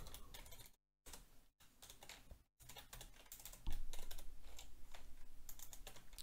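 Computer keyboard typing while entering title text in a Unity editor scripting tutorial, a steady run of close, crisp key clicks broken by two brief silent gaps, getting louder and denser in the second half.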